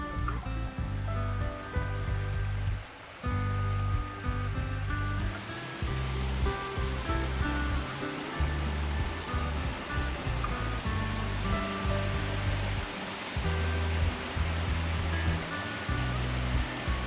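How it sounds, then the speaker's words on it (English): A creek in the Wentworth Falls area of the Blue Mountains rushes steadily during a rainy bushwalk on the Charles Darwin Walk, a continuous broad watery roar heard close and fairly loud. "And lo and behold, the creek was still there."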